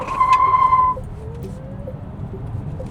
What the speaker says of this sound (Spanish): Patinaron mucho las ruedas.